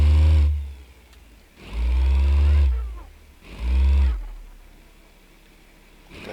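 A car engine in a modding video game revs in three long surges, each rising to a loud, deep roar and dropping back to a low idle between them.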